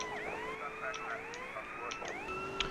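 A police car siren in the video game GTA San Andreas wails continuously, its pitch sweeping up and down in repeated cycles, loud and steady with no talking.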